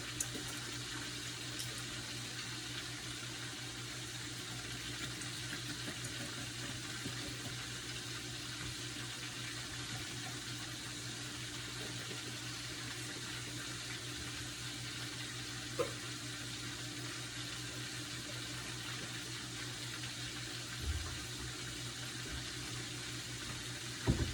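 Steady water runs from a kitchen tap during home cooking of Jamaican-style French fried chicken, a constant faint hiss lasting throughout with no talking.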